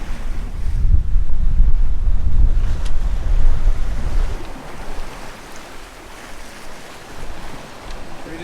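A sailboat moves through the sea in wind, with loud blustery wind buffeting and rushing water in the first half, easing to a softer steady wash of waves.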